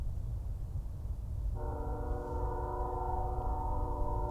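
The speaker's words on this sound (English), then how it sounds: "We have a train go by every 15 minutes all day long," A train horn sounds a long, steady blast over a constant low rumble of a passing train, heard from some distance outdoors.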